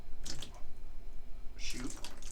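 Water poured into a slime mixture comes in two short splashy bursts, near and moderately quiet, against a faint background.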